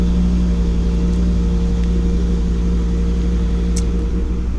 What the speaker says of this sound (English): It's on cold start now anyway, but it does come off cold start quite quickly.